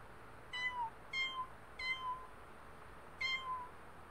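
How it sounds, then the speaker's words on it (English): A cat in The Sims 4 meows four times in short, evenly spaced calls, clear and fairly quiet against a low game background. "Yeah, it's pretty kitty."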